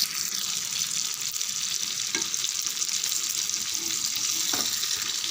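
Seela fish fries in a pan with a steady, dense sizzle and crackle that holds at an even level throughout, with a couple of faint clicks and no talking.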